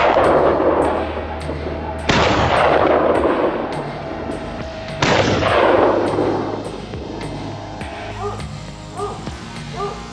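Hunters fire a volley at a herd of giant wild boar in the woods: loud, sharp gunshot blasts at regular intervals, each followed by a long rolling echo, while a voice talks underneath.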